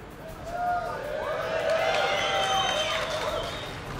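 A large crowd at a World of Tanks esports finals in San Francisco cheers and shouts continuously, a broad wash of voices with whistles rising over it, loud and sustained throughout.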